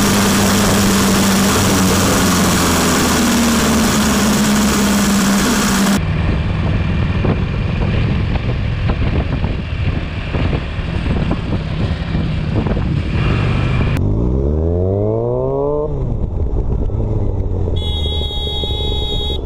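A dirt bike engine runs steadily with the clutch held in, a loud continuous idle and rumble that shifts in tone partway through, with rising and falling revs near the end.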